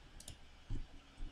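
Quick mouse clicks in a Unity editor, a few short taps spaced apart, close and faint with no talking.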